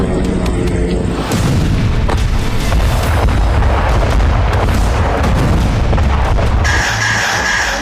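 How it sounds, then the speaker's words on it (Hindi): Rockets launched by Hezbollah at night over Beit Hillel in the Galilee, heard as continuous loud rumbling booms and blasts rolling one into another for the whole stretch, with no speech. "ये गैलिली के बेथ हिलेल का वीडियो है जहां रात के वक्त हिजबुल्लाह ने 50 से ज्यादा रॉकेट दागे"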